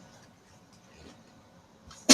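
A single sharp sneeze bursts out at the very end of a near-silent stretch, loud and close after faint room sounds.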